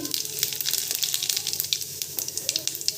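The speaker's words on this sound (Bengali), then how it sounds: "দেখুন এখানে গোটা জিরা দিচ্ছি" Whole cumin seeds sizzling in hot oil in a kadai, a close crackling fry with rapid popping spatters over a steady hiss.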